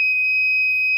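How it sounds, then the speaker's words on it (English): A home automation alarm buzzer, set off when a magnet sensor is triggered and no password is entered, sounds a steady, piercing continuous high-pitched tone, loud and close, with nothing else heard. "the buzzer is ringing because I haven't pressed the password"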